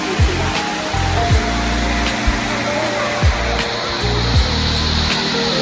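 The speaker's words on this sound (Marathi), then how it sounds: "वरून डोंगरावरनं पाणी पडतंय" A waterfall pours down a mountainside near a temple, giving a continuous broadband rush, while scattered low thumps and faint crowd noise come and go in the background.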